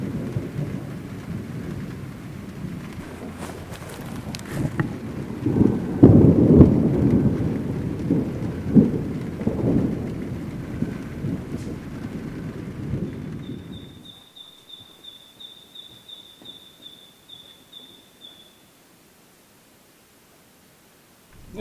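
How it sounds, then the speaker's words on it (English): A thunderstorm over a hut on the Daisy Plains, with heavy rain pelting the roof and rumbling thunder building before easing into sparse drips and near quiet. "listen to the thunderstorm and the rain pelting the roof"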